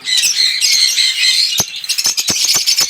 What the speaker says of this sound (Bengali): এই দেখুন আমার পাখিগুলো আর একটু ভয় পাচ্ছে